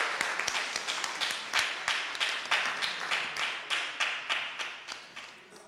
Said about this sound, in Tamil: ஏன் அவர் கொஞ்சம் வேகமாக கைத்தட்டான்னு தெரியுதுங்களா?